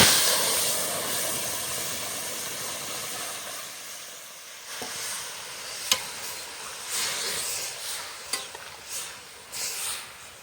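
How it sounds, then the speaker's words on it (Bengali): Hot oil tempered with spices sizzles and hisses softly as a dal of peas and broad beans is added. A steady, faint frying hiss is broken by a few light stirring clinks. "ফোড়নটা হয়ে গেছে, ডালটা ছেড়ে দেব।"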